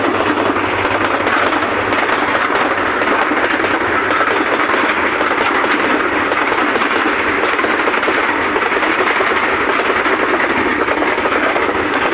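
A loud, steady roar of a train passing close by on the Dudhsagar railway line, continuous rumbling and rattling with no letup for the whole stretch.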